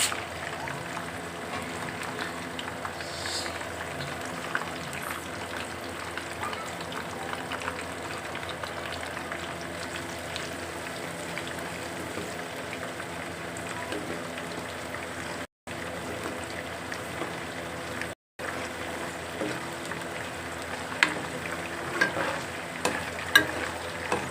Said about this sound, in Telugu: మనం ఒక స్పూన్ ఆవాలు స్పూన్ మెంతులు శనగపప్పు ఐదు మిరపకాయలు కొంచెం కరివేపాకు పోపు వేసుకోవాలి